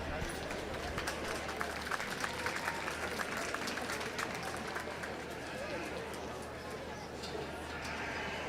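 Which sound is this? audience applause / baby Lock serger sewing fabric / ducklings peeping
audience applause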